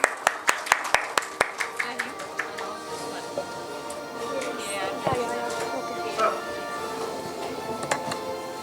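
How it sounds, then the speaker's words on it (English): Audience clapping at a healthcare conference awards ceremony in Pune, a burst of sharp, fairly close claps in the opening second that thins into scattered claps beneath murmuring voices and room chatter. "Please join me in applauding."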